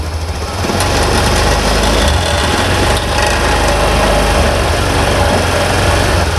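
A Honda Beat ESP motorcycle engine, a scooter with a weak battery and misfiring trouble, runs loud and close, throttled up to a steady high-pitched buzzing rev that holds for several seconds without talk.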